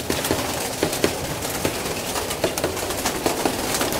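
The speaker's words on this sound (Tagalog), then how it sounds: "Yan, papalabasin na natin sila mga kalapatids." Racing pigeons being released from a loft, with a busy mix of flapping wings and soft cooing close by in a steady, continuous flurry.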